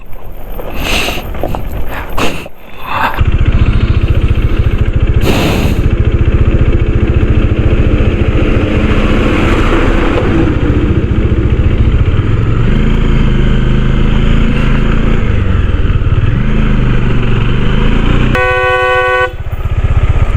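A Bajaj Dominar 400 motorcycle engine runs loudly and steadily throughout, with a few sharp bursts early on and a honking horn near the end.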